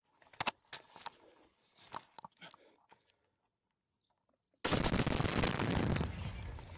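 Sharp bursts of gunfire ring out on the Lysychansk-Bakhmut road in a war zone, several separate shots in the first few seconds, then a pause before a loud, steady roar of noise takes over.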